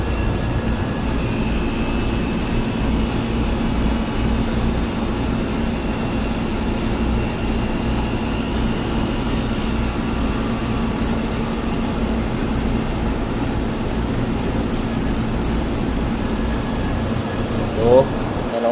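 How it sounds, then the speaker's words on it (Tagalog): A malfunctioning engine room air conditioning compressor runs as a loud, steady mechanical drone with a low hum throughout, while voices talk over it. "So before gas na naman ikarga natin, andarin natin yung kuan compressor."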